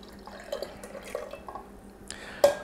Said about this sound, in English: So now I'm going to just grab this right here, pour in some juice.